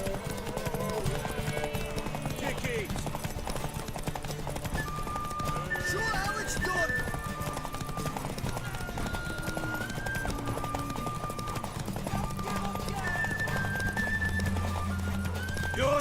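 Galloping horse hooves drum in a fast, continuous rhythm during a race in The Witcher 3, with repeated whinnies breaking through and spoken lines over the top.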